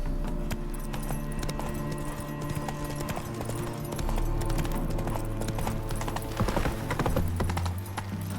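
The horse Roach gallops in The Witcher 3, a fast, steady drum of hoofbeats heard up close with a low, sustained tonal background underneath.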